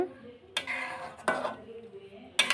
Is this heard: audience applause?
no